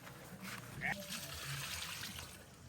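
Water trickles and splashes steadily during transplanting of hibiscus and mint in a garden, a close continuous pouring sound with a brief brighter splash partway through.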